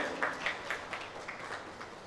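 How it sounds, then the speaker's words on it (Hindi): Applause from a crowd at a political meeting welcoming a guest, heard as faint, scattered clapping with soft irregular bursts. No voices are heard. "उनके लिए बहुत बहुत ताली से स्वागत करें"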